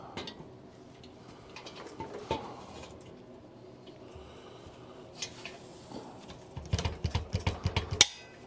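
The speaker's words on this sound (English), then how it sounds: "Oh, that's the click that I was looking for." A plastic or metal retaining clip snaps into place on a VEVOR drywall lift. It sounds as faint, quiet fiddling, followed near the end by a quick run of small ticking clicks and one sharper click.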